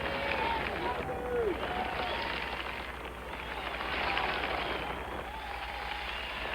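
Six thousand golf fans standing and applauding Larry Nelson, a native Georgian, as he approaches the 18th green, a steady dense roar of clapping and crowd noise with a commentator talking over it.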